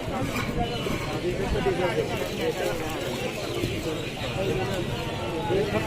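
Pigeons at a busy pigeon market coo softly amid steady crowd chatter and bustle, with people talking throughout and the birds partly masked by the voices.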